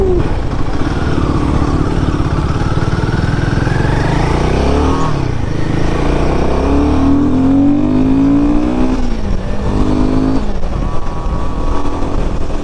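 An Aprilia RS457 motorcycle pulls hard through its revs, the engine note climbing, dropping at gear changes and climbing again, loud and close with steady wind rush and no talking.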